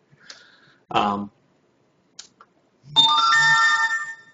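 A phone ringtone sounds loud and close, a sustained electronic ringing with several steady tones lasting over a second, preceded by brief speech and a short click.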